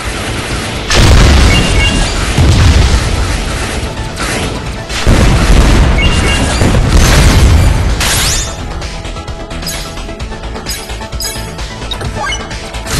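Electric shock rocket explosions in an arcade fishing game, a run of loud booming blasts with crashing bursts, two heavy surges followed by a denser crackling stretch over a constant busy game soundtrack.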